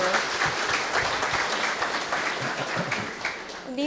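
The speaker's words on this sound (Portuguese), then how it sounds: "So can we have a applause for God?" Applause from a church Bible study audience, a steady wash of hand claps at moderate distance, continuing evenly without voices.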